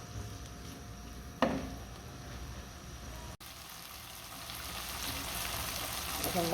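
Onion and tomato curry fries quietly in a pan with a soft, continuous sizzle, broken by one brief clink of a utensil.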